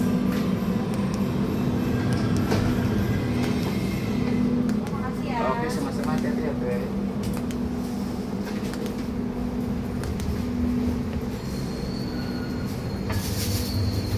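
Interior of the KA Lodaya passenger train between Bandung and Jogja, a loud, continuous rumble of wheels on rails with a squealing stretch partway through and light rattles, heard from inside a carriage, with speech mixed in at points.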